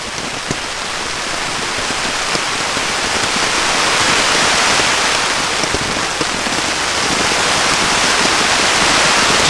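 Torrential rain pounding a tent while camping, a loud, dense, unbroken roar of drops hitting fabric, steady and close for the whole stretch.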